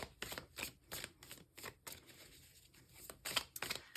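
A deck of tarot cards is shuffled by hand at close range, with a series of quiet, papery riffling bursts separated by short pauses.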